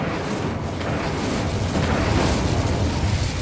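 An Incendio fire spell cast in Hogwarts Legacy, a dense, roaring burst of flame and crackling noise that fills the whole stretch at steady loudness, with no talk.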